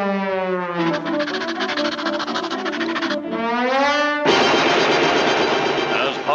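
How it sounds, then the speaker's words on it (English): A long-range rapid-fire coast defense gun in a 1941 cartoon lets loose a loud, dense, continuous rattling burst in the final couple of seconds, after a stretch of whistling, tonal effects. "Here we see the latest long-range rapid-fire coast defense gun in action, shooting 10 million shells a second."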